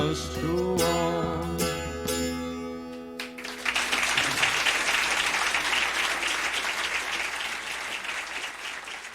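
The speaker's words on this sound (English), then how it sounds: "Then the applause began and built, and it got pretty loud" A sung love song about a labor union closes over sustained instrumental notes, then loud audience applause takes over, building into dense, continuous clapping that fills the rest of the time.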